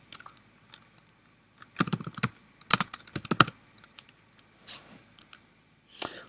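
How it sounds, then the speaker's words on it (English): Typing on a computer keyboard while entering data into an Excel spreadsheet, close clusters of quick key clicks in short bursts separated by pauses, no talking. "I can just simply start typing"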